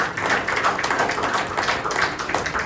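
An audience at a Republic Day free health checkup event at a wellness centre claps hands together in steady, dense applause for a few seconds, fairly loud and without speech over it.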